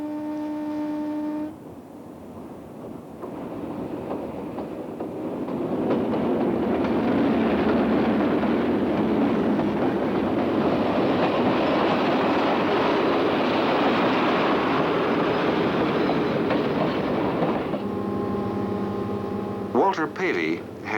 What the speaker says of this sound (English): These two slips of paper are destined for the engineer and the conductor of passenger train number 7, engine number 1432.